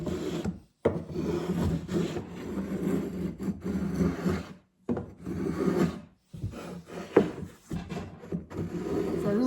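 A hand planer shaves a wooden tea serving tray in repeated close rasping strokes, each a few seconds long and broken by brief pauses.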